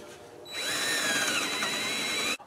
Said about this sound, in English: All right, so I got the holes drilled.